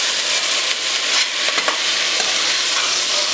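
Mushrooms sautéing in a pan for mushroom pulao, a steady close sizzle with light stirring scrapes throughout and no voices.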